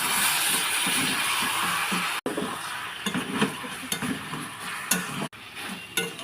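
Well-fried spices for chicken curry stirred in a pan, steady close sizzling with intermittent scraping and light clinks of a utensil, two brief sharp cuts in the sound, nobody speaking.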